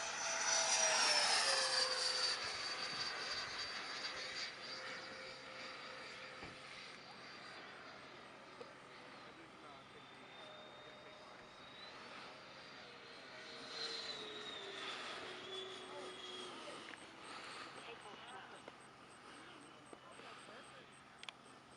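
A Freewing MiG-29 RC jet flying at full power, whose ducted-fan whine rises and falls in pitch as it passes, loudest at the start and then fading, with someone talking over it.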